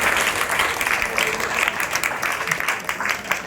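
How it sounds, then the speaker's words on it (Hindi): A room full of people at a yoga session for board students claps loudly and continuously, a thick, close burst of applause that holds steady throughout. "जोर से ताली बजाएंगे सब लोग"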